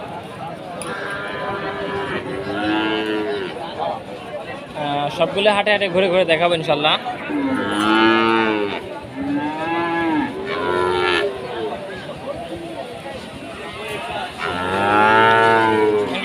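Cattle moo repeatedly, long drawn-out calls rising and falling, at a busy cattle market in Chandipur, Rajshahi, Bangladesh. Someone talks throughout, close by, over the lowing herd and crowd noise.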